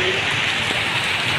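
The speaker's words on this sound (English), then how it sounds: "Look how rainy it is." Steady rain pouring down during the rainy season in a Kenyan town, a dense continuous hiss with no breaks, fairly loud and close, with no voices over it.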